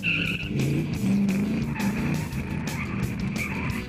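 A limited-series lightweight high-speed car built by an Istanbul designer drives hard, its engine droning loudly with tire squeal and rapid roaring surges close by, no talk over it.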